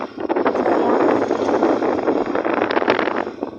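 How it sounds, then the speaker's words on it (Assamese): A steady, broad rush of cool wind blows against the microphone among trees, with gusts rising and falling, loud and continuous throughout. "ধুনীয়া ঠাণ্ডা বতাহ বলি আছে"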